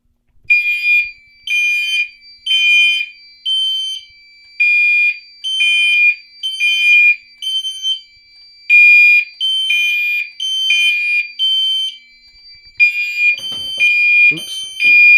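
A fire alarm system set off by pulling a Gamewell Century pull station sounds a loud, repeating electronic tone in regular rhythmic pulses, with a few faint clicks and handling noises near the end.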